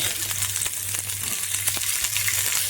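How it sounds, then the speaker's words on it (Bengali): Garlic and onions frying in oil make a close sizzle with scattered crackles and pops. A low hum and occasional utensil clicks sit beneath it, with no talking. "এবার ওই তেলেই আমি রসুনগুলো ভেজে নেব"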